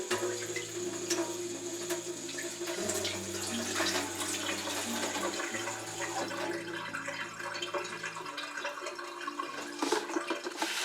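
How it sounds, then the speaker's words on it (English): Tap water runs steadily into a container as sprouting seeds are rinsed, a close, continuous splashing hiss with no talking over it. "I'll give them another rinse"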